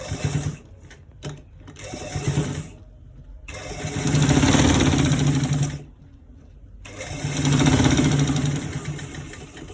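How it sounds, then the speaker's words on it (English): A sewing machine runs in bursts while stitching fabric for a collar roll. Its close, steady motor whir comes in three long runs with short stops and pauses between them, and no one talks. "So we are stitching from this place to the end part."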